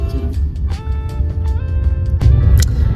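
Street traffic in Ho Chi Minh City gives a close, steady low rumble of engines with horn-like tones, a couple of sharp bursts and a car passing near the end, with no talk.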